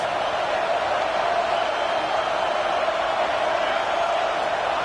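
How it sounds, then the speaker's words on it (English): A football stadium crowd keeps up a loud, sustained roar, a dense wall of noise from a distance with no clear breaks. "This crowd trying to make life miserable for this offense."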